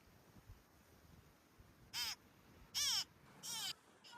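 Three loud, harsh caws from a crow near a food offering at a Hindu mother-goddess shrine, each burst short and close, spaced about a second apart against quiet outdoor background.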